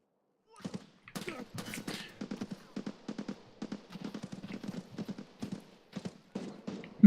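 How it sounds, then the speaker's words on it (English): Footsteps in Escape from Tarkov form a steady, rhythmic series of muffled thuds, fairly close and clear, with no talking over them. "I'm hearing footsteps all over the shop."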